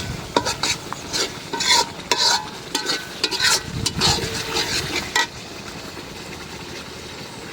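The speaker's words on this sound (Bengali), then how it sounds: "এই মশলাটা ভালো করে কষাই নিলাম" Spice masala for chicken curry being sautéed in a pan, a loud, close scraping stir in repeated strokes over a steady sizzle, with the stirring stopping near the end while the frying hiss carries on.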